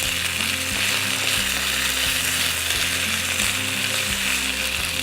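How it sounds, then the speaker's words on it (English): Diced potatoes fry with a steady, dense sizzle in a pan, joined by repeated scraping and clattering as they are stirred in a loose rhythm, close and continuous with no talk. "Giving them a bit of a stir."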